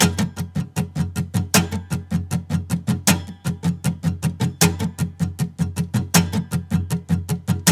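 A guitar is strummed in a steady rhythm, with the downbeat strokes hitting noticeably harder to accent the beat.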